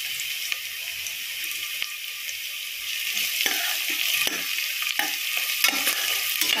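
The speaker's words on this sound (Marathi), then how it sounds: "चांगलं भाजून घेऊ आपण लालसर होईपर्यंत।" Whole spices including bay leaves and cardamom with garlic roasting in a hot pan, a soft steady sizzle with occasional scrapes and stirring clicks, close and alone without talk.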